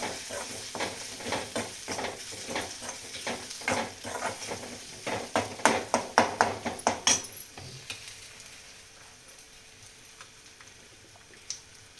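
Turmeric and spices are stirred and roasted in a pan for a spiced potato and eggplant curry, with a rhythmic series of spatula scrapes and soft sizzling that grows louder, then stops and leaves quiet low sizzle, no talking.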